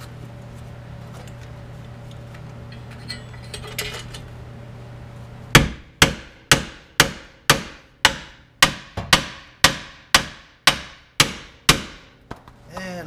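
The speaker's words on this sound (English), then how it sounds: "back to the hammer." A hammer strikes a ball joint on a Ford Mustang about fifteen times in a steady rhythm, each sharp metallic clang ringing briefly, close and loud, after a quieter stretch of faint workshop noise and a low hum.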